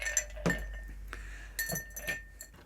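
Ice clinks against a glass while a brandy cocktail is strained, producing a few faint, sharp chinks scattered over a quiet background, spaced irregularly.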